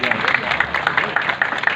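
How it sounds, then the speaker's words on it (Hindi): Applause from the audience at Father France's 78th birthday celebration, a dense steady wash of many hands clapping together with crowd murmur throughout. "हाँ जी जोरदार तालियां बजाएं।"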